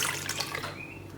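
Full-cream milk is poured into a glass for a milkshake: a brief splashing pour lasting about a second, close by, that tapers off quickly.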